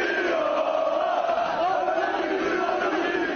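Galatasaray supporters chanting and cheering together as players are welcomed at the Metin Oktay facility in Florya, a dense, sustained crowd roar with loud massed voices throughout.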